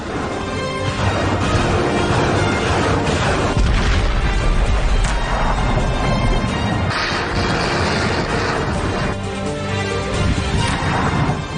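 Bombs and missiles bursting in the Russia–Ukraine war, a dense, continuous roar of heavy booms and crashes that stays loud and near for the whole stretch with no voices.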